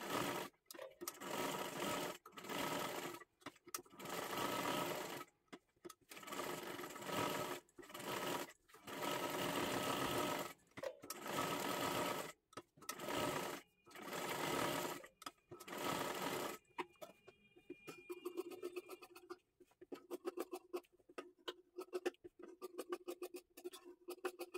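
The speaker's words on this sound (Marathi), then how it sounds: "आता इथे पाठीमागच्या सुद्धा बाजूला आपल्याला हे पूर्ण शिलाई करून घ्यायचं आहे" Sewing machine stitching a saree's lining fabric, running in steady repeated bursts of fast mechanical stitching separated by short pauses, close and loud; the final stretch turns to quieter handling and clicks.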